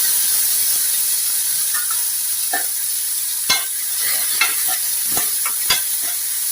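Steady sizzling of chopped tomato frying in hot oil tempering, with scattered sharp clicks and scrapes of stirring breaking through the hiss, no voices.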